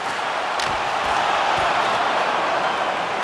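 Arena crowd in the ice hockey game NHL 24 roars as a steady, broad wash of cheering, with a few thumps and board-like knocks scattered through it.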